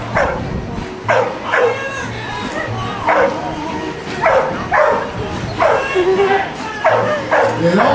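Dog barking repeatedly during a dock diving long-jump finals, sharp yips and bow-wows spaced about a second apart over crowd chatter and talk.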